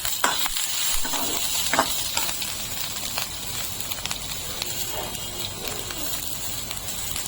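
Diced tomatoes hit a pan of frying onions and are stirred, giving a steady close sizzle with scraping and soft clattering of the spoon against the pan.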